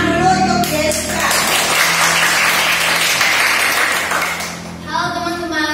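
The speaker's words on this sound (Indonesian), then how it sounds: "berikan tepuk tangan dulu untuk Jessica" A classroom audience claps for a student presenter during a teaching practice session, a dense burst lasting about four seconds between stretches of talking.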